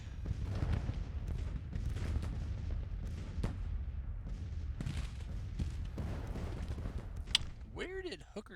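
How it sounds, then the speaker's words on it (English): Artillery fire in the Civil War strategy game Grand Tactician: The Civil War. It comes as a steady rolling rumble of distant cannon and musketry with repeated dull booms, ending in a short whooshing, wavering tone near the close. "Oh, additional artillery."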